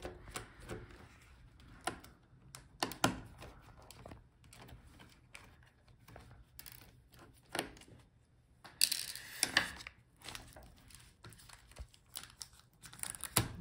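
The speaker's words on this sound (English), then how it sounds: "now let's take out these screws" Small screws being taken out of an MSI Stealth 15M laptop: scattered close clicks, light metallic taps and scraping of a screwdriver working the chassis, with a louder cluster of rattles midway and no talking.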